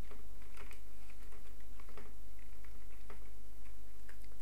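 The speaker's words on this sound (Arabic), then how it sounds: "طبعا الآن نكتب الجمل المراد تحريكها في البانر الإعلاني" Rapid, uneven clicking of keys on a computer keyboard as text is typed into Photoshop, close-up and continuous over a steady low hum, with no talking.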